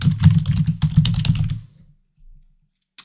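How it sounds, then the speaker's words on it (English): A quick burst of close, crisp keystrokes on a computer keyboard rattles for about a second and a half, then stops, followed by near silence and one faint click. "so I'm just going to type that in."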